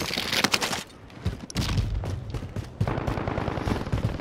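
Rapid bursts of gunfire from Call of Duty: Modern Warfare, loud and close, with dense volleys and a brief lull before shooting resumes steadily to the end.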